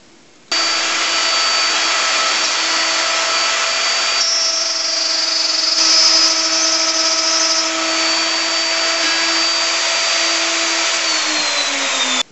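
A handheld router plunges into wood for a sea chest's top frame: the motor starts abruptly and whines loud and steady, the pitch shifting slightly as the bit cuts, then winds down at the end.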